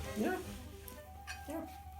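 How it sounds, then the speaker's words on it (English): Neighborhood dogs bark and whimper in short yips, moderately close, mixed with a person talking over them. "The neighborhood dogs are barking."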